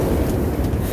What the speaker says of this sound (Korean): 대관령의 바람 소리 한번 들려드리겠습니다.